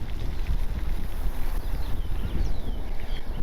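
Wind gusting across a small pond, a steady loud rumble buffeting the microphone with faint bird chirps in the background and no voices.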